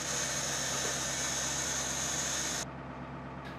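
A private fire truck's engine idles while building air pressure, giving a loud, steady broadband rumble and hiss that suddenly drops to a lower, duller level near the end.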